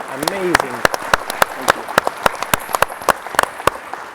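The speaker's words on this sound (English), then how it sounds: "can everybody give Chris a round of applause?" A small keynote audience gives scattered, distinct claps, sparse and uneven, with a voice speaking briefly at the start.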